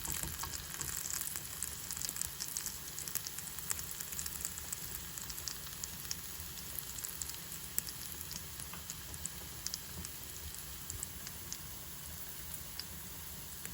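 Cooking oil sizzles in a Martha Stewart non-stick frying pan with only a little oil, a steady, faint, crackling hiss heard alone throughout.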